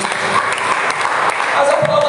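Church congregation applauds during a service, a dense, continuous wash of clapping from many hands with voices blended underneath.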